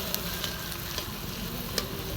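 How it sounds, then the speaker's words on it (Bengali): Boiled potatoes frying in hot oil, a steady close sizzle with faint crackles and the odd light tap of stirring. "এখন আলু সিদ্ধ করে গরম তেলে ফ্রাই হচ্ছে"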